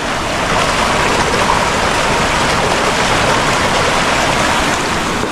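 Strong river current rushing steadily with a dense, continuous roar of water, loud and close throughout, with no voices over it.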